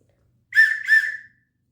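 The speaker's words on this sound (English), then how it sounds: "Then I have my emergency whistle." 7-in-1 emergency whistle blown in two short shrill blasts back to back, clear and alone against silence.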